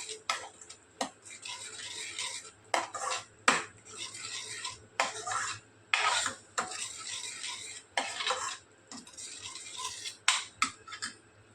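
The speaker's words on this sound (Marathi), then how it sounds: "आता टोमॅटोची प्युरी घालते, तीही छान परतून घेऊ आपण" Tomato puree for a fresh Bombay duck fish curry is stirred in a pan, with repeated bursts of scraping and clinking from a spoon against metal and only a faint sizzle underneath, without any talking.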